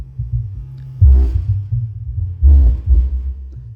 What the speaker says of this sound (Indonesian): Langsung dicek sound saja untuk yang subwoofer ya.